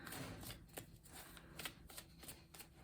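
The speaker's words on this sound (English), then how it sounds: "I'm going to do 3 more shuffles." Tarot cards shuffled by hand in a quiet room, a soft, steady papery riffle with small rhythmic bursts, close and faint, with no voices.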